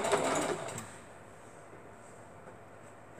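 A sewing machine stitching fabric runs briefly at the start with a close, busy whirr, then stops and leaves a quiet room hum until a faint new sound rises at the very end.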